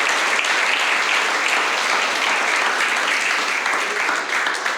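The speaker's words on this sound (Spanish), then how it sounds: "dale un fuerte aplauso al Señor" Applause fills a church congregation, a steady dense wash of clapping that holds evenly throughout without pause.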